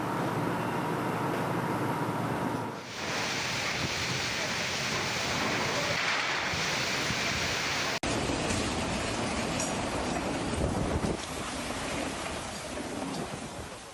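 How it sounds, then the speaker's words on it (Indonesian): A strong gusting wind drives heavy rain in Klaten, Central Java, producing a loud, continuous roaring wash of noise that persists throughout, with an abrupt shift in texture partway through. "Beginilah kondisi saat angin kencang dan hujan deras menerjang Klaten, Jawa Tengah pada Senin sore."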